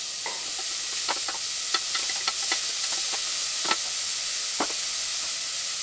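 Vegetables sweat in a pot while being stirred for a carrot coriander soup, giving a steady soft sizzle with scattered light scrapes and taps of the spoon across the whole stretch.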